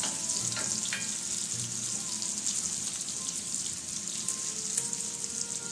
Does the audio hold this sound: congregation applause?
no